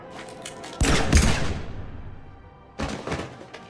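Gunfire in Mass Effect 3, two loud bursts of rapid shots, the first dense and booming then trailing off, a second burst following after a short lull over low background rumble.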